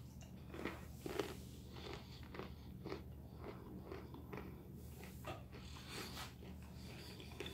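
Salted dry peanuts crunched between the teeth, a series of sharp close bites and chewing crackles at an irregular pace, quiet overall with no talking.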